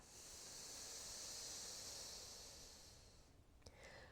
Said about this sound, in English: Take a breath in and a breath out.